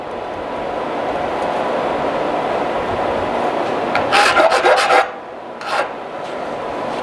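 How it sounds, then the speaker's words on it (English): A file rasps along the rakers of a chainsaw chain in a run of quick, close scraping strokes, ending in a few sharper bursts with a short pause, and no one talks. "I'll file the rake 5 times"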